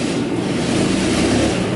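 A rebuilt 2003 Kawasaki KLX110 dirt bike ridden around inside a shop, its engine droning loud and steady at close range with a harsh, buzzing rasp.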